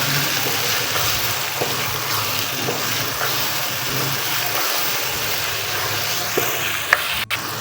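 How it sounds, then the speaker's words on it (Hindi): Boiled minced meat (keema) stirred and sautéed in a pot for a choliya keema dish with green chickpeas, giving a steady close sizzle and scraping stir throughout, with one sharper clink near the end. "कीमा डाल के भी इसकी अच्छी तरह बुनाई करनी है"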